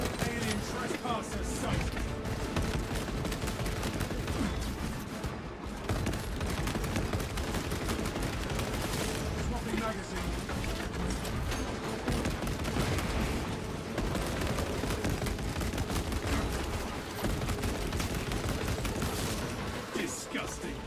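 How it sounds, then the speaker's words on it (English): Heavy bolt rifle firing in a Warhammer-style shooter against Tyranids: sustained rapid, loud automatic bursts with heavy impacts, continuous throughout, with a voice speaking over it. "This is where the heavy bolt rifle performs."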